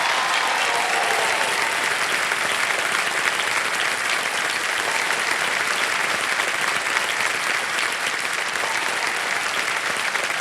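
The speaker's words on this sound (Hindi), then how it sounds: "जोरदार तालियां शेफाली शाह जी के लिए" Audience on the KBC game-show stage clapping for actress Shefali Shah, an unbroken wash of loud, dense applause from a large crowd that holds steady throughout with no voices breaking through.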